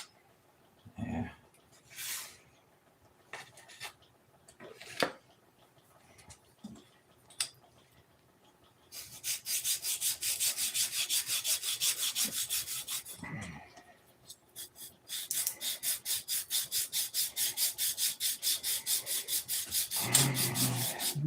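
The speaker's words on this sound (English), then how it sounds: "are you sanding?" Rhythmic back-and-forth sanding on wood, rasping strokes in two long bursts, preceded by a few scattered knocks and scrapes.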